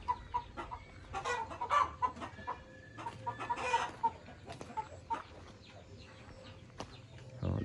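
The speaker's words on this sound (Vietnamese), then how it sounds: "Đó, đàn gà kìa" Several chickens cluck and chatter in short bursts close by, with occasional louder calls over a quiet background.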